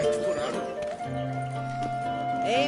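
Horse hooves clip-clop in The Witcher 3: Wild Hunt, a light steady patter of steps at moderate distance under game music and a tavern-like voice.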